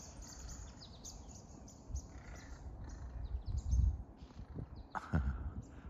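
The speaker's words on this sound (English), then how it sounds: "A little tiny bird was just chasing that crow." Small birds chirp and tweet outdoors in New England in spring, a scattered series of short calls over a steady background hum, with a couple of louder bursts near the end; no one speaks.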